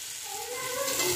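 Pumpkin greens dropped into a hot pan for a Bengali chorchori, with a steady, close sizzle of frying and stirring that swells slightly as the leaves settle in.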